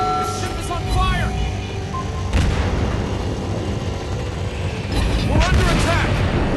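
Warship battle game action with heavy booming naval gunfire and explosions, rumbling mechanical ship noise and sweeping whooshes, loud and continuous, while voice callouts sound over the combat.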